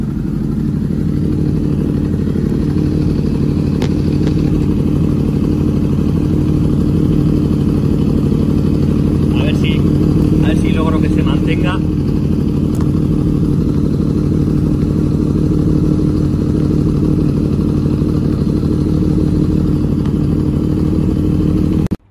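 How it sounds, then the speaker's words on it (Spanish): A Honda CBX 1000 cafe racer's engine runs loud and close, its exhaust giving a steady, throaty roar throughout with only slight shifts in pitch and no voices. "voy a pegar unos acelerones para que veáis el sonido del escape"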